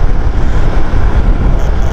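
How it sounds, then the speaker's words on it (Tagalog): Waves break on a white-sand beach at Casapsapan in Casiguran, Aurora, a constant loud rushing wash mixed with wind buffeting the microphone, with no voices. "nakakatakot yung tunog ng hampas ng alon."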